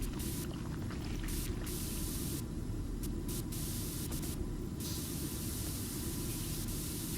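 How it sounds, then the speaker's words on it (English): Constant high-pressure washer spray from the PowerWash Simulator game while cleaning a dirty Warhammer Rogal Dorn tank: a steady, loud broadband hiss that runs unbroken throughout, with no talk. "Forgot that I could turn the constant spray on."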